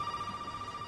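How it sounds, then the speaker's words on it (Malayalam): A telephone rings with a steady, sustained electronic tone inside the Resident Evil 7 video game, faint and alone, with no talking over it. "ഫോൺ അടിക്കുന്നു."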